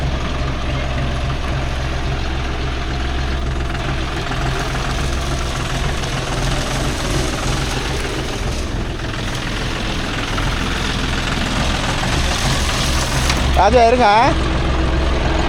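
A John Deere 5045D 4WD tractor pulling a heavy nine-tine cultivator in a coconut grove, its diesel engine chugging loud and steady throughout, with people talking over it and a short shout near the end.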